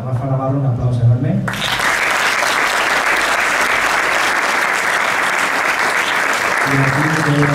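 Enthusiastic audience applause for a trumpeter at a live music show, loud dense clapping erupting after a spoken introduction and sustained for over five seconds before talk resumes.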